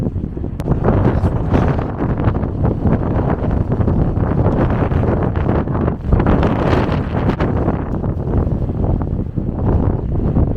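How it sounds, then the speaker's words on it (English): Steady, loud wind buffeting the microphone, a continuous broadband rumble and roar with gusty swells throughout, no clear voices. "Very windy today."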